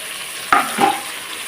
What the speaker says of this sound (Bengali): এটা দিয়ে একটু ভালোভাবে কষিয়ে নেবো মশলাটাকে